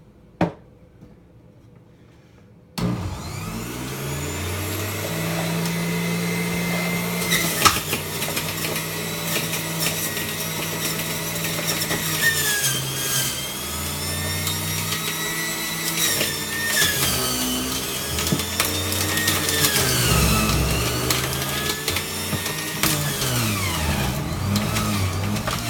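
A juicer grinds fresh vegetables such as celery and kale for shakes, starting after a short quiet gap with a loud continuous motor whine that rises and dips in pitch as produce is pushed through.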